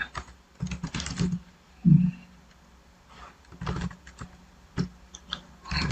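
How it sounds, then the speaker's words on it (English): Computer keyboard typing comes in short clustered bursts of quiet, close key clicks while a report is written in MS Word, separated by brief pauses. "So instead of me typing every time"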